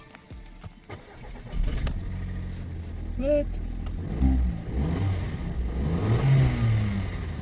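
A Mk2 Audi TT TFSI 200 cranks over and catches on a cold morning, then its engine idles and revs up, close by, while a person talks briefly over it.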